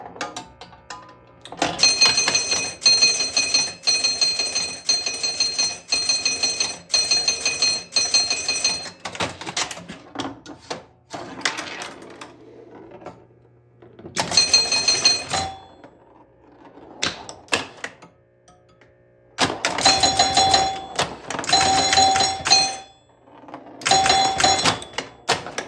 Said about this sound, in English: The chimes are a little loud.